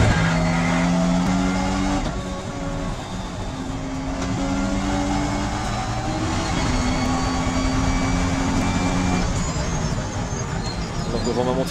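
Alpine race cars scream around a circuit, engines howling and shifting through rising and falling tones, loud and close throughout, with race commentary talking over the noise.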